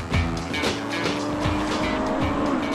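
A Honda Civic Type R race car closes on a 190 hp six-speed Toyota Celica, its engine droning loudly and steadily close by, with pitch sweeping up and down through gear changes and a faint tire squeal.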